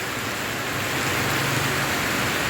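Steady rain pours down on an open town plaza in Calinog, Iloilo, falling hard even while the sun shines, a dense continuous hiss of drops on surfaces with no voices.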